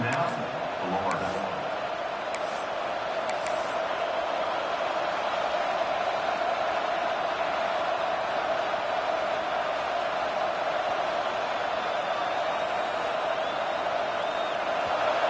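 Stadium crowd at a Florida college football game, a steady broad roar of cheering fans held at a constant level, with a few brief whistles near the start.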